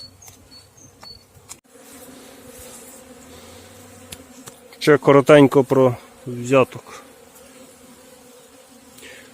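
Honey bees buzz and drone steadily in the background, close by, searching hive boxes for honey, while someone speaks briefly over them.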